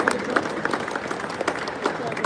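Scattered applause rises for guests at an engine unveiling event at a trade exhibition, brief uneven clapping from a crowd mixed with a murmur of voices.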